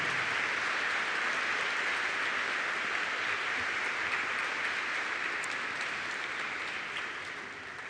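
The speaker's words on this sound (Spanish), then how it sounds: "Un aplauso para los expositores y para Campana." Sustained audience applause fills a school's twentieth-anniversary academic ceremony, a dense even wash of many hands clapping that holds steady throughout and tapers slightly at the end, with no voices on top.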